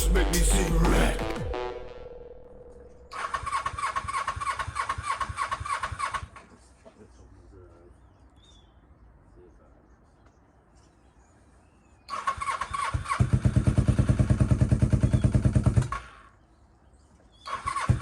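A car with a custom exhaust cranks and fires up, settles into an idle, goes quiet for a few seconds, then starts and revs again with a loud, raspy drone before cutting off; music plays faintly early on.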